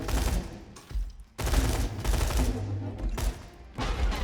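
Assault rifle fire in Borderlands 2, loud sustained bursts of rapid automatic shots with brief pauses between volleys, up close and dense.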